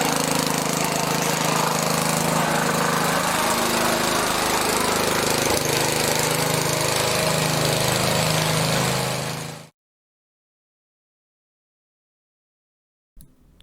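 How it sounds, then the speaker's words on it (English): A 1960s Hayter Hayterette petrol lawn mower cuts grass with a loud, steady, close engine roar and rattle for about ten seconds, then stops abruptly into silence. "here's a quick video of it mowing some grass"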